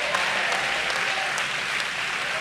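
A church congregation at a district family camp claps hands in a dense, continuous burst of applause with scattered sharp individual claps, filling the space without any talk over it.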